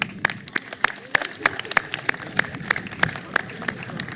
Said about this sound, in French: Applaudissons pour tout le monde.